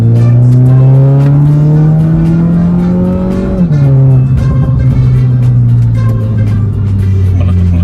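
A remapped Mazda 2 Skyactiv with a 1500cc engine drones loudly from inside the cabin, its revs dropping on a downshift with faint crackles and pops from the exhaust under the steady engine note.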